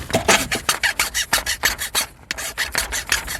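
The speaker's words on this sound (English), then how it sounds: "It says file the edges smooth." A file rasps back and forth over the edges of a plastic center rib in a Honda CR-V dashboard. The strokes are close, even and rhythmic, about four per second, with no talking.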